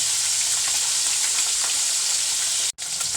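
Native tilapia frying in oil in a pan makes a loud, dense, continuous sizzle, close up, broken once by a brief cut near the end, with no voices.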